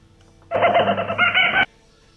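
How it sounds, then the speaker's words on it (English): A kookaburra call plays over a shortwave radio stream, one loud, dense burst of about a second that starts and stops abruptly, set against a faint background hiss. "That's the Kookaburra."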